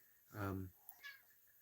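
A pet cat meows once in a drawn-out, fairly loud cry while being petted indoors, followed by a fainter, shorter chirp and quiet background.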